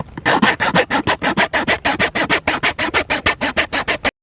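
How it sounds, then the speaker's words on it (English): A hacksaw cuts a groove into a pocket slingshot with steady back-and-forth strokes, about twenty-two rasping passes in a regular rhythm, loud and close with no talk. "that is the line that you're gonna cut with a hacksaw, just like so"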